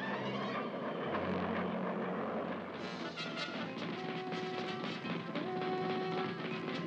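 Cartoon airplane in flight, a steady droning engine roar that stays loud and constant throughout, with busy rattling and clattering layered over it in the second half.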